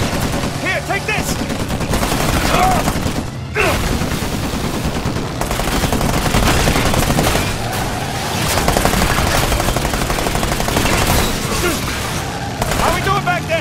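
Video game gunfire from a vehicle chase demo shown at E3: dense, continuous bursts of automatic fire and booms, loud and close, with characters shouting over the shooting.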